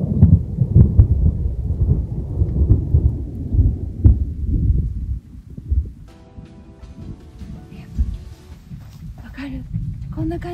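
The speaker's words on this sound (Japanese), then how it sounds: "あっちもこっちもそっちもめっちゃ雷ゴロゴロ鳴って" Thunder rumbles repeatedly during rain in the Northern Alps near Kurobegoro, deep rolling booms over steady rainfall, with a hiker's voice talking intermittently alongside.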